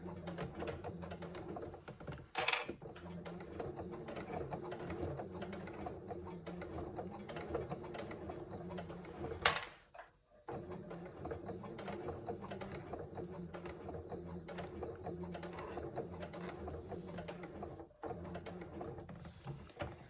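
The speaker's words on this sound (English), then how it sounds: "I'm just going to sew across the short end as well to get to the other side" A sewing machine runs steadily, stitching across the short end of a Scarlett Hobo bag, its rapid mechanical chatter continuous and close with two brief pauses around the middle.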